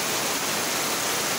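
Loud, steady rushing of floodwater during heavy rain in Surigao del Sur, a broad continuous roar with no breaks, close by and filling the whole moment.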